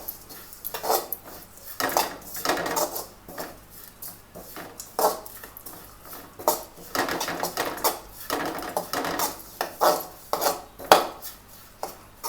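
Masala for egg kulambu is stirred and roasted in a pan on low flame, with repeated irregular scraping and clinking of a spoon against the pan, moderately close, with light background noise.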